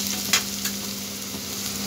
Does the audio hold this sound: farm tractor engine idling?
no